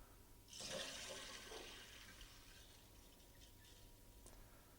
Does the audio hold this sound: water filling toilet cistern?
yes